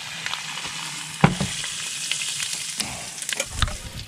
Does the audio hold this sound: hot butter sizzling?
yes